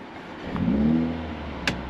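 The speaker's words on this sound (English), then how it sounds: "this car uses an AMG emotion start, so for that I need to have the up paddle pulled" A Mercedes-AMG A35 (W177) starts up with AMG emotion start engaged, giving a short close engine crank and rising rev flare that settles into a low idle, followed by a brief click.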